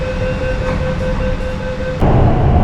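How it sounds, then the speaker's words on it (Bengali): A Kolkata metro train runs in the tunnel beneath the Ganges river with a loud steady rumble and a thin tonal whine, turning rougher and louder partway through. "এবার কিন্তু আমাদের মেট্রো যাবে গঙ্গা নিচ দিয়ে"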